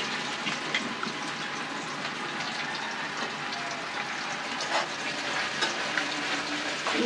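Bitter gourd dropped onto boiled potatoes and onions frying in a pan, giving a loud, continuous close sizzle with stirring and bubbling sounds and no talking.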